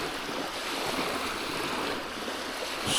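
Wake from a passing speedboat washing ashore at a lake, a soft continuous rush of lapping water with light wind noise, fairly quiet and steady with a slight swell at the end.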